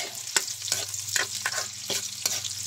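Sardines tipped into onions already frying in a pan, giving a steady close sizzle broken by sharp scraping stirs at irregular intervals, with no talk.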